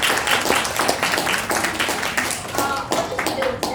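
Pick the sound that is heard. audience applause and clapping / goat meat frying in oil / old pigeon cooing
audience applause and clapping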